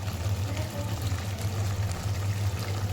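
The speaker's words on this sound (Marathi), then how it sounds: "मी गरम पाणी ओतते" Hot water pouring into a simmering homemade curry for a Konkani-style meal, a steady close liquid pour running throughout with a low continuous hum beneath.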